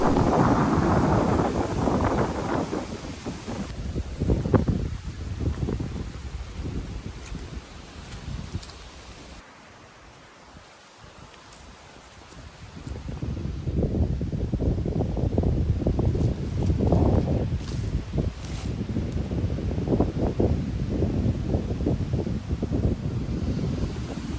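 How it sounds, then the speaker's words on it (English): Wind gusting hard across the microphone on a nature preserve path, a loud rumbling buffeting that drops away briefly midway and then returns, steady and continuous. "Here's where the wind really starts to pick up for the first time"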